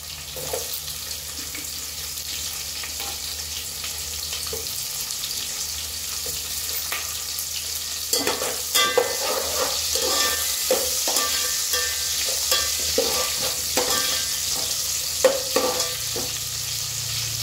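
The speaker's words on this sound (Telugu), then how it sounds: "ఇప్పుడు ఉల్లిపాయలు వేసేసుకుందాం." Onions go into a pan for vegetable khichdi and fry with a steady sizzle, joined by stirring scrapes and clatter that grow busier partway through, close and without talk.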